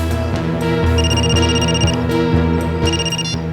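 A looping electronic ringtone plays loudly, with repeating melodic tones and bright high chimes in a steady rhythm.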